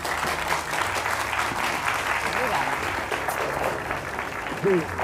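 Studio audience applause on a Portuguese comedy talk show, a steady dense wash of clapping filling the clip, with a voice speaking briefly over it near the end.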